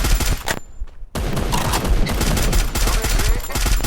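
Rapid gunfire in the shooter game Free Fire, loud bursts of shots crowding the clip, broken by a brief near-silent gap before the firing resumes and continues steadily.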